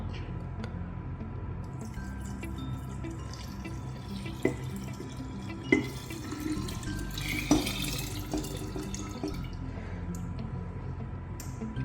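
Boiled and cooled water poured into a pineapple wine mixture gives a running, splashing trickle with scattered drips and a few louder splashes, close and without talk.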